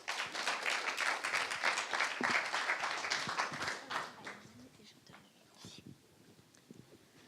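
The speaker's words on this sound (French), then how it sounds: "On les applaudit." Audience applause at a regional sales-excellence awards final, a warm burst of clapping that holds for about four seconds, then fades to a few scattered claps and room noise.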